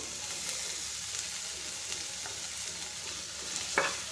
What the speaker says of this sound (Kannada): ಈಗ ಈರುಳ್ಳಿ ಗೋಲ್ಡನ್ ಕಲರ್ ಬರೋವರೆಗೂ ಫ್ರೈ ಮಾಡ್ಕೊಳ್ಳಿ